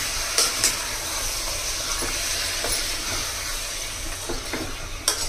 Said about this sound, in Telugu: ఇప్పుడు బాగా కలపాలండి